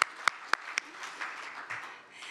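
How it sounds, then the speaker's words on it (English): A warm round of applause from the audience at the launch of the 2025 African Economic Outlook Report, opening with a few distinct sharp claps and settling into soft, fairly distant scattered clapping. "Yes, a warm round of applause."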